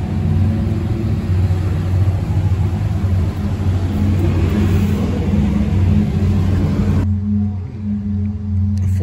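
A 1949 Ford convertible fitted with a 350 Chevy V8 rumbles loudly and close at a rod run in Pigeon Forge. A deep, throbbing low tone swells with revs, then eases and thins out near the end.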